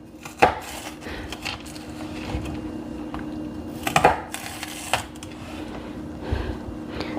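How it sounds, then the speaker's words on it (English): A knife cuts celery into thick julienne on a board, with a few sharp separated chops standing out over a quiet background hiss, spaced irregularly across the stretch with no speech. "just dividing like a thicker julienne on that celery"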